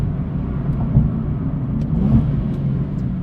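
A rebuilt, previously wrecked Nissan 370Z drives with a steady, loud, low engine and road rumble, fairly quiet in character and continuous throughout, with no voices.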